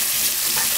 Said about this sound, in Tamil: வெங்காயம் நல்லா வந்து வதங்கட்டும்.